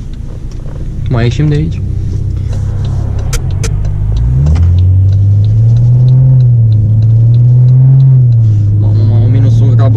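A BMW 6 Series starts and pulls away, its engine rumble low and close with a rising rev before settling into a steady drone, while someone speaks briefly over it.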